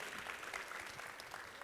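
An audience at a healing rally in a large auditorium claps in a continuous, moderately distant wash of applause, even in level throughout, with faint crowd murmur mixed in.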